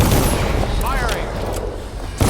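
Gunfire in the video game Dishonored, a dense, continuous barrage of loud shots with no break. Voices shout over the firing.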